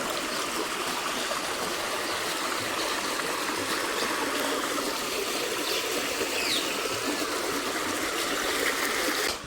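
Irrigation water runs along a channel in a farm field, a dense, continuous rushing and trickling wash that stays loud and even throughout, with no speech.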